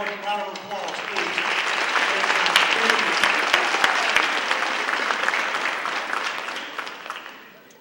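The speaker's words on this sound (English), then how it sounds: "Give them one more round of applause, please." Audience applause at a school district board meeting: sustained clapping from a full room that swells, holds steady for several seconds, then fades at the end, with no voices over it.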